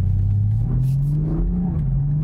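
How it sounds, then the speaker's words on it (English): A BMW Z4 M40i engine hums and revs steadily with a low, burbly exhaust rumble, sounding continuous and fairly loud. "The way the exhaust system just keeps making those burbly farty noises is just so intoxicating."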